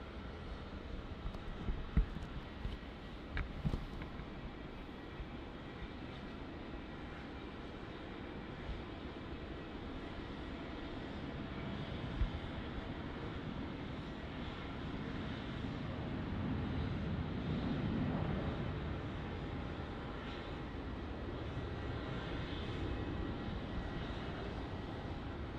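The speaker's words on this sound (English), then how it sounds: "here goes that Qantas 717" Qantas Boeing 717 jet at Melbourne Airport, a sustained broadband engine roar that swells gradually over the span, heard from a distance outdoors.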